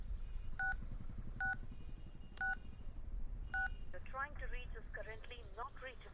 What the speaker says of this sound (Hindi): अनिल को फोन कर।